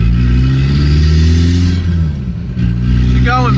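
A new Volkswagen Passat with a clutch accelerating: a loud, close engine drone rises steadily in pitch, with a voice speaking over it near the end.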